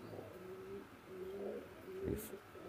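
Pigeons of the Oman teddy type, kept among Pakistani-bloodline teddy pigeons, coo in soft, low repeated phrases, with three or four rounded calls close by and no talk.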